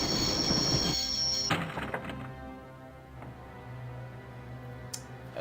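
A train in the Broken Sword adventure game grinding to a halt, with a heavy rumble, a loud clunk near the start and metallic screeching fading into a steady low drone and a final thud.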